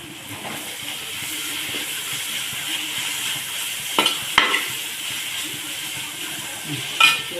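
Mutton frying in a pan with salt for biryani gives a steady, close sizzle and hiss throughout, broken by a few brief clanks of stirring.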